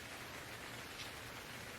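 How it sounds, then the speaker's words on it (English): Steady rain in the survival game Stranded Deep, a dense even hiss of falling water with no breaks, loud and close throughout with no talking. "It is now raining"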